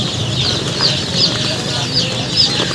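High, repeated peeping from a group of chicks, a busy chirping chorus with short sharp calls popping out over a steady murmur.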